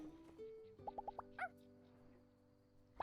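A cute little dog in the video game My Time at Sandrock gives a quick run of four small high yaps, then a short whine. The sounds are faint over quiet, steady in-game background tones.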